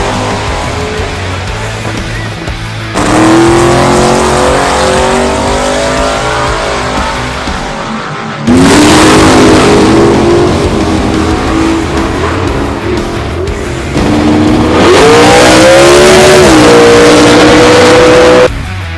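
A radial tyre drag racing car at a drag strip, its engine roaring loud and near in long sustained blasts, with pitch rising through each run and abrupt cutoffs between passes.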